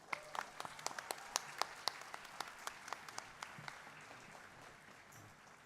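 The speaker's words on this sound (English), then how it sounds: "Let's give them another round of applause." Scattered audience applause for a band at a charity night, a few distinct, crisp claps repeating at a quick pace, faint overall and thinning out toward the end.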